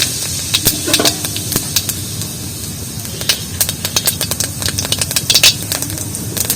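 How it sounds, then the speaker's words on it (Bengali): Whole cumin seeds crackle and sizzle in hot oil being tempered for a Bengali kulfi greens dish, a dense steady fry hiss with many sharp, irregular pops scattered throughout, close and fairly loud. "তেলটা গরম হয়ে গেছে, এবার গোটা জিরে তেলের উপরে ফোড়ন দিয়ে দিচ্ছি।"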